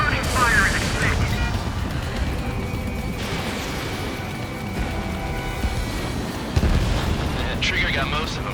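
Missiles and gunfire rumble through an Ace Combat 7 aerial battle, heavy booms and blasts layered over a constant roar, with a sharp impact near the end and game voices talking over the action.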